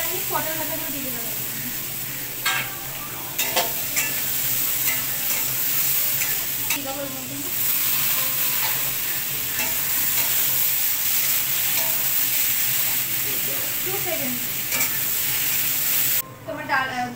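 Fried pointed gourd slices go back into a hot pan with slit green chillies, sizzling steadily under a constant hiss while a spatula scrapes and stirs at intervals, close up, with a voice talking over it.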